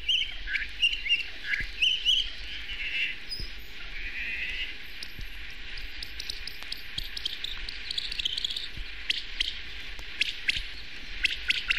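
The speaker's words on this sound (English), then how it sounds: "A good way to hear the patterned structure of humpback songs is to speed them up to birdsong speeds." Humpback whale song sped up fourteen times, turning the calls into rapid bird-like chirps, whistles and squeaks that come in patterned bursts over a faint, steady background hiss, with no voices present.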